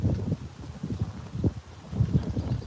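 Gusty wind buffets the microphone outdoors on a farmstead beside a table stacked with honey jars, a steady low rumble swelling in irregular surges and lulls, with no speech.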